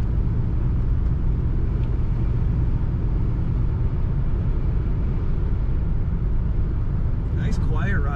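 A 1977 Chrysler Cordoba 2-door Special Coupe runs smoothly, its engine a steady low rumble with constant road and cabin noise, close and unbroken throughout.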